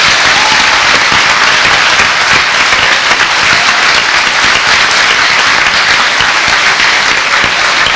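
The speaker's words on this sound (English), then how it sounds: "Let's get some applause in there." Sustained, dense audience applause fills a school moving-up ceremony, loud and steady from start to finish with no talk over it.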